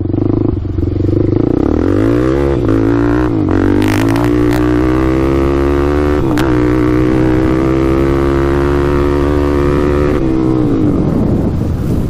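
Suzuki LTZ400 quad engine revving up and accelerating hard, a loud, close, steady engine drone climbing in pitch through the gears, with wind buffeting over the microphone and brief rattles.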